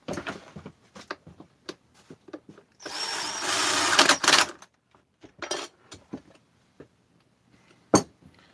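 A cordless power tool, likely a drill or driver, runs in one sustained burst of about two seconds while fastening the top handle screws during final assembly of a Husqvarna 262XP chainsaw, surrounded by scattered clicks and clinks of parts and tools.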